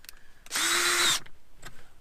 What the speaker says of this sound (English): and a drill